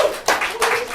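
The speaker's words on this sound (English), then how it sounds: "please give a big round of applause" Audience applause welcoming magician Gordon Precious to a magic show stage, a short burst of close hand claps with uneven rhythm lasting about a second.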